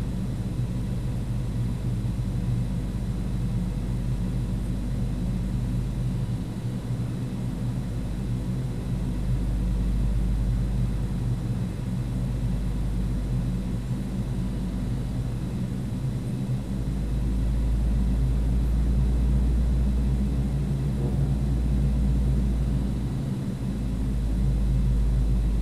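A Carenado Fokker 50 turboprop taxis through snow in the Prepar3D v4 flight simulator, its engines droning at a steady low pitch that swells and dips slightly over the whole stretch, with no voices heard.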